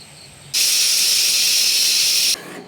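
Steam hisses loudly and steadily from a pressure cooker cooking raw banana, one continuous burst lasting nearly two seconds with an abrupt start and stop, with no voices.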